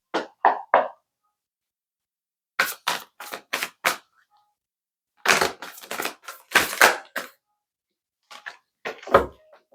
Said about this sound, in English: These cards are kind of hard to shuffle, but they're beautiful